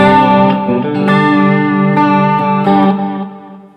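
A clean electric guitar plays sustained notes through a Line 6 Helix with plastic chorus, delay and reverb, each strum shimmering and trailing off in a wash of echoes.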